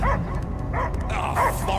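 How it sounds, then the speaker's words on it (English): A dog in the video game Guardians of the Galaxy gives a few short muffled barks and yips in quick succession, close by, over a low rumbling backdrop. "I hear only barking."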